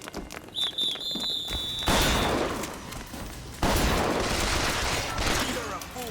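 Gunfire in BioShock Infinite: loud bursts of shots in two long, dense volleys close up, with shouting voices mixed in.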